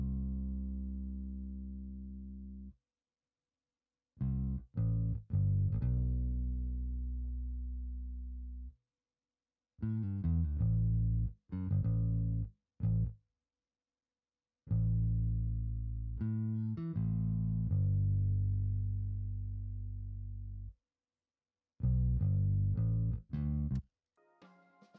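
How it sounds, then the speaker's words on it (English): A bass line added over a soul loop beat plays deep, sustained notes in short phrases separated by gaps of silence, loud and clear with no voices. "we just added this bass, and it sounds like this."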